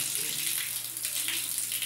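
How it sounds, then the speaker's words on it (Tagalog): Weak, low-pressure water flow from a household tap, a steady soft trickling hiss heard up close throughout. "Ito yung tubig. No. Hina lang yung tubig. Mahina."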